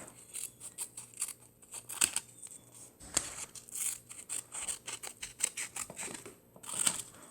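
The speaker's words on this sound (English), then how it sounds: "grab a scissors and a piece of white paper. I'm just going to cut a tiny piece off" Scissors snipping a small piece of white paper, a series of sharp crisp cuts and rustles at an uneven rhythm, close up and alone.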